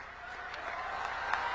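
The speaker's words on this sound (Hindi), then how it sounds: "जम्मू वालों, जोर से ताली बजाना।" Crowd applause at a BJP election campaign rally in Paloura, Jammu, a steady wash of many hands clapping, moderately loud and spread out, swelling slightly toward the end with a few sharper peaks.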